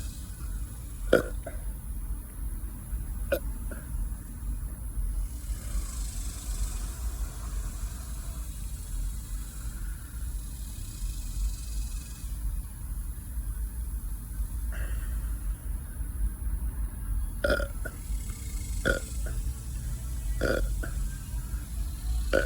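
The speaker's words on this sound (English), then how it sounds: "These burps send shockwaves when they need to." Several burps ring out over a steady low background hum, a couple near the start and a cluster of short eructations later on, loud and close.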